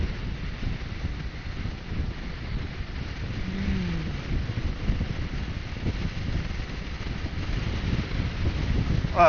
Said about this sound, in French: là il y a vraiment du vent